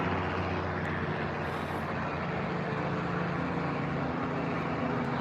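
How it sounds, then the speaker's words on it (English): A helicopter flying overhead sends out a continuous, heavy droning rumble that stays loud and steady throughout, with no talking over it. "Do I have a helicopter? Helicopter."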